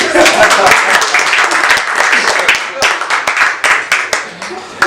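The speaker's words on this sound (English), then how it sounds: "Where's a round of applause? Come on!" Audience applause at an official foundation launch, a dense, steady wash of many hands clapping throughout, with voices mixed in and the clapping thinning toward the end.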